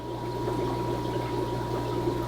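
Steady running water flowing through aquarium water lines, a continuous even rush with a low pump-like hum beneath, close and constant throughout with no voices.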